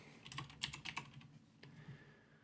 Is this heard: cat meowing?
no